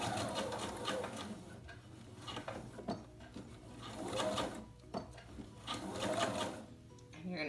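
A sewing machine stitches fabric for an envelope pillow, running in three close bursts of rapid mechanical whirring with brief pauses between, while a voice talks faintly underneath.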